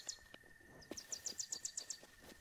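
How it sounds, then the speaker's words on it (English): Birds tweeting in the Zelda Breath of the Wild game world: a quick series of about eight high, bright chirps in a steady rhythm, faint and clear over quiet background ambience with no talk. "I can hear birds tweeting."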